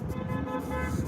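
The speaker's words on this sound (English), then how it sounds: "That guy literally honked at someone right when the light turned." A car horn sounds at a traffic light as the signal changes, a sustained toot over street traffic noise on a night walk, loud and near throughout the short moment.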